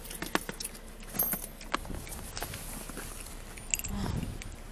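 A bunch of keys jingles in irregular, light metallic rattles near the mic, with soft handling and shuffling noises and faint footsteps around.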